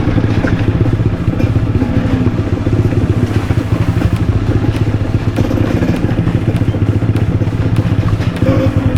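Dirt bike motorcycles on a rocky enduro trail, a steady loud engine drone with clattering and bumping over stones, close by and continuous with no talk.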